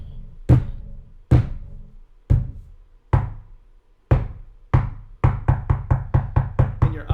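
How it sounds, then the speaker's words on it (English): Heavy knocks thud against the underside of a boat's hull, as though fists are striking it from below: a handful of slow, spaced blows, then a quicker run of seven or eight raps, close and resonant. "you hear something knocking at the boat, like fists hitting it from the bottom or something"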